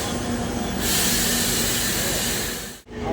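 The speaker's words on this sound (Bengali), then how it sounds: "আমাদের ট্রেনটি এখন আসলো নকশালবাড়িতে" Malda Court–Siliguri DEMU passenger train pulling into Naxalbari, a steady close rumble and rolling hiss that swells slightly midway, then dips abruptly in a brief gap near the end.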